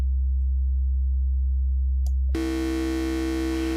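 A Voltage Modular Noise Terrain Oscillator gives a steady low tone that suddenly jumps to a much brighter, buzzy mixed-waveform drone rich in harmonics, continuous and electronic with no voices.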